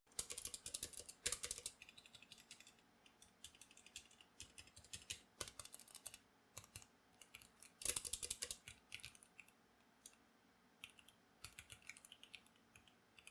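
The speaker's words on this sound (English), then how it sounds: "the spacebar does rattle quite a bit out of the box" Typing on a Gamakay K87 mechanical keyboard, an irregular stream of clacky keystrokes with occasional louder hits from a rattling spacebar, quiet and close with no talking.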